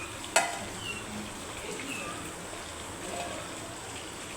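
Food fries in a pan with a steady, moderate sizzle and occasional light stirring clicks, one sharp tap near the start.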